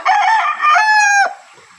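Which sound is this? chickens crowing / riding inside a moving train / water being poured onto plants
chickens crowing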